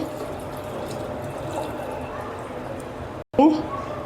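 Water poured from a glass into a pan of rice and vegetables for masala rice, a steady close splashing hiss with a brief break and a sharper burst near the end, with a voice faintly underneath.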